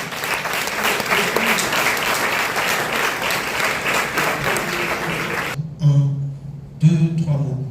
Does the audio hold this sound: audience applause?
yes